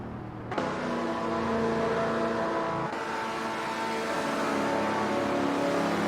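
Supercars in an AI race on the Indy oval hold a continuous high-revving engine drone, with a sharp onset and a slight shift in pitch midway as cars run close together.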